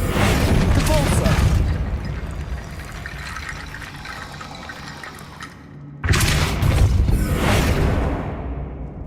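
Repulsor spell effect from Hogwarts Legacy: a loud rushing whoosh that fades over several seconds, then a second sharp surge of blasting, watery-sounding force around the midpoint, up close.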